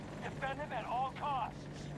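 A helicopter's steady rotor drone hangs low and continuous in a military video game, sitting beneath a man's excited speech.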